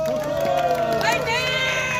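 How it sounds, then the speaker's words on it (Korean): A crowd at an outdoor summer rally cheers and claps together, a dense continuous roar of voices and hand noise with rising shouts, steady and close for the whole stretch. "박수 한번 주세요!"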